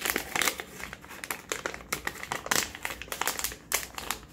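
A resealable plastic lip gloss package is peeled open and handled, giving close, continuous crinkling and crackling with sharp bursts throughout.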